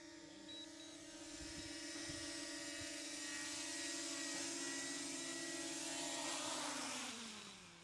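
A DJI Mini 2 drone lands, its steady high propeller whine holding close and loud, then shifting and winding down as it settles, with a few faint low knocks underneath.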